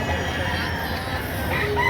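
A rooster crows nearby over a constant background hum, with other fowl faintly clucking.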